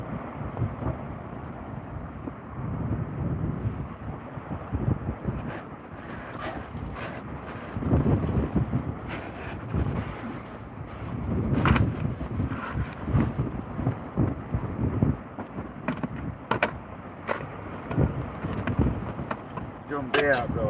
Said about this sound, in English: We've got the wind coming straight in the bivvy.